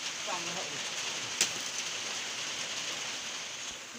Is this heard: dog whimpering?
no